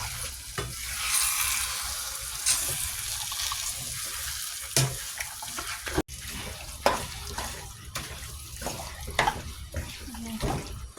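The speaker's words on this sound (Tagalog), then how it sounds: "Ilagay ko na yung manok at isok natin to." Chicken pieces sautéing with homemade curry paste in a clay pot for Singapore-style chicken curry, with sizzling, stirring scrapes and clacks, and brief spoken comments over the cooking.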